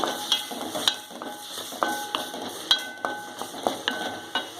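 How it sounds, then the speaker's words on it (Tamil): Vallarai keerai chutney ingredients with tamarind sauté in a pan over a low flame, a soft sizzle broken by repeated scraping and clinking stirs of a spoon against the pan. "கொஞ்ச நேரம் அடுப்பை சிம்மில் வச்சு நல்லா வதங்கட்டும்."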